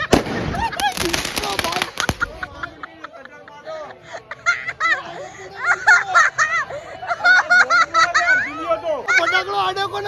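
A firecracker bursts at a birthday celebration with a cake, giving a sharp crackling burst at the very start, followed by laughter and lively chatter from a group of people nearby.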